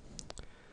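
A few quick computer mouse clicks during ZBrush texturing work, three sharp close ticks bunched near the start, then quiet.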